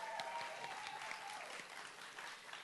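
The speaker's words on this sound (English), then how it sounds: "Give yourself a round of applause" Applause fills a spring education induction pinning ceremony, a fairly faint, continuous clapping from an audience of graduates with a brief whoop early on.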